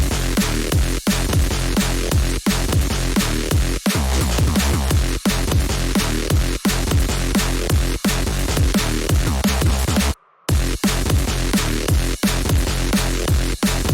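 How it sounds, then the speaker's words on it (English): A heavy, dense bass patch from the Parallax Kontakt library plays in a driving rhythmic pattern with regular accents, loud and continuous except for one brief drop to silence. "this is the main bass, and it sounds a little like this"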